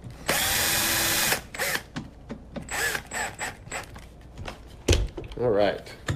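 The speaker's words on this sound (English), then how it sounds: "that drill's burned out" An electric drill driving into an old Printrbot 3D printer whirs in a loud sustained burst, then sputters in short strained pulses as it burns out, with clicks and a voice speaking nearby.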